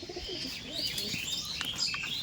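Madras pigeons coo and chirp softly at close range in a short, uneven burst of calls.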